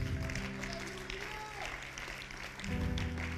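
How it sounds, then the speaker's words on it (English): A church congregation claps during a service, with the clapping mixed under sustained keyboard or organ tones; moderate, continuous applause blending with the music. "Give him a hand clap."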